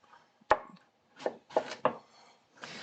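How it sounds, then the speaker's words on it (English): A knife chops beet greens, zucchini and sugar snap peas on a cutting board, giving about five close, crisp strikes at an uneven pace with short pauses between them. "I'm gonna chop my veggies."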